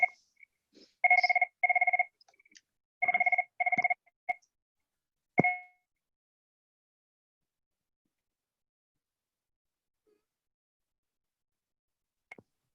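A new mobile phone rings during a podcast, a short burst of bright repeated electronic ring tones in quick clusters, then cut off into silence with a final faint click.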